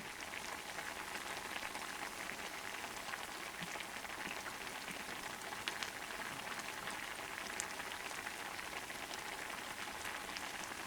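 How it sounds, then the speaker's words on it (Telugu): Steady rain falls outside on a rainy day, a dense, even hiss of drops pattering on surfaces that continues for the whole stretch without any talk. "ఈ రోజు మంచి వర్షం పడుతుందండి"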